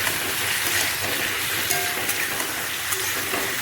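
Pumpkin and yardlong beans fry in a pan with spices, turmeric, salt and tomato, giving a steady, dense sizzle that crackles continuously.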